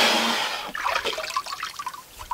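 Hands lifted quickly out of a tub of hydro dip water, a short splashy rush followed by scattered drips and trickles falling back into the water, close and fairly loud.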